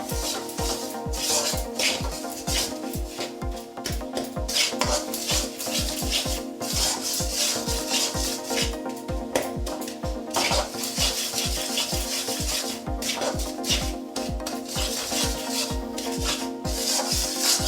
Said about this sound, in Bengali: এই পর্যায়ে গুড়টাকে অনবরত নাড়তে থাকতে হবে, না নাড়লে তলা ধরে যাবে।